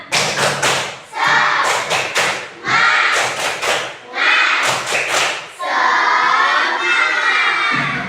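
A group of children performs a tepuk semangat clapping chant, shouting in unison between sharp, rhythmic bursts of claps and thumps, loud and close, with brief pauses separating each phrase.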